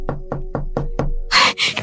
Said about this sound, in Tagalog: Sana si Arvin na yung kumakatok